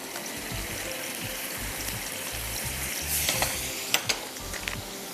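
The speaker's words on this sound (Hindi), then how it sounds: "सबसे पहले आप थोड़े से तेल में अदरक लहसुन का पेस्ट डाल दीजिए" Ginger-garlic paste and masala frying in a little oil, a steady close sizzle with stirring scrapes, growing louder with a few sharper crackles and spatters toward the end.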